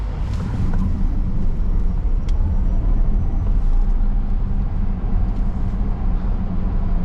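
Tesla Model S Plaid, a 2023 electric sedan, merging into traffic: a steady low rumble of road and tyre noise with faint whine, nearly constant in level for several seconds, no talking.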